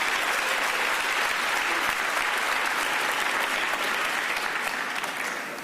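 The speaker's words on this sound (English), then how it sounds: "Let's give them another round of applause." Sustained, dense applause from a crowd at a press briefing for Olympians and Paralympians, including para-fencers, loud and steady throughout with no voices over it, easing slightly at the very end.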